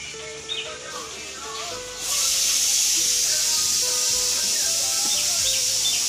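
A heated knife pressed onto a cracked plastic bucket sets off a sudden loud, steady hiss about two seconds in that carries to the end, with birds chirping faintly in the background of an outdoor village winter morning.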